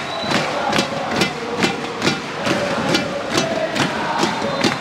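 Football stadium crowd at a Singapore vs Vietnam AFF Cup match in 2022, chanting and banging drums in a steady rhythmic beat about every half second, loud and continuous.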